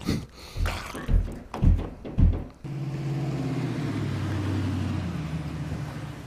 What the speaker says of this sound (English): Ah, the Camaro.